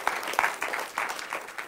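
A church congregation claps hands together in praise, a brief dense patter of many hands at moderate distance, fairly loud and without talk.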